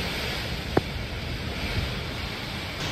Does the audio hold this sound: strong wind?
yes